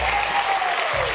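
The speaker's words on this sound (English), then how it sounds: "How about a round of applause for John?" Audience applause at a podcast recording, a brief dense wash of clapping from a crowd, fairly even and moderately loud.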